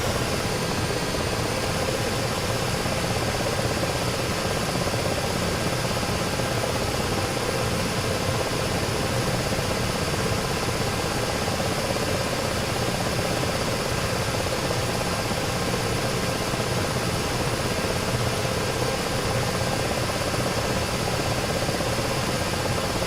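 Ka-50 Black Shark helicopter engines running steadily in the DCS combat flight simulator, a loud continuous turbine whine and rotor drone that holds unchanged throughout with no talking.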